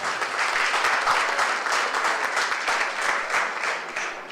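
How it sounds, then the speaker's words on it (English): Audience applause greets a speaker at a live hackathon event in Vizag, a dense and fairly loud wash of many clapping hands that holds steady throughout. "Please give him a wide round of applause."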